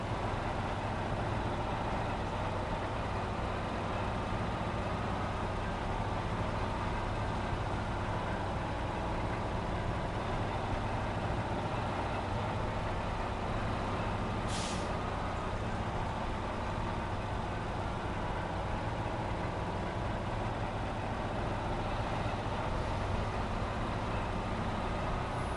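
A truck engine in SnowRunner drones steadily in super low gear, crawling through a deep mud section with a continuous heavy rumble and no break.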